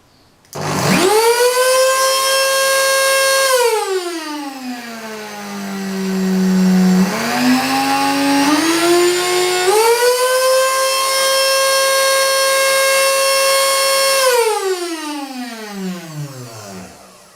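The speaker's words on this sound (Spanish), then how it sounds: "Hemos visto nuevamente con este dispositivo cómo los motores universales son motores que se pueden regular" Universal electric motor spinning up to a loud whine, easing down and dropping low, then rising again and holding steady before winding down at the end, close and alone.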